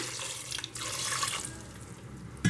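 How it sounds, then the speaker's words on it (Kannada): Water pours steadily from a tap into a cooker pot of raw peanuts, a close, continuous splashing that lasts about a second and a half before tapering off. "ಕಡಲೆಕಾಯಿ ಮುಳುಗುವಷ್ಟು ನೀರು ಹಾಕ್ಕೊಳ್ಳಿ."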